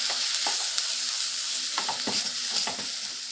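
Spice masala with chilli powder for soybean curry is fried and stirred in a pan over low flame, making a steady sizzle broken by repeated scraping strokes of the spoon, close and clear.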